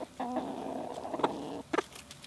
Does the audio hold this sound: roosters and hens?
yes